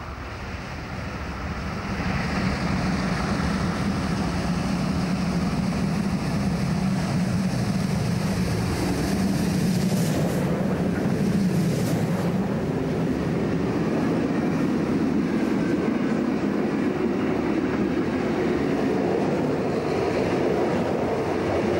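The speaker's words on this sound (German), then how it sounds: "Nach Bad Salzungen müssen sich die beiden Maschinen noch einmal ins Zeug legen." Continuous heavy rumbling of two class 44 steam locomotives hauling a freight train past in the Werra valley, a steady loud roar with some hissing, no voices, for the whole stretch.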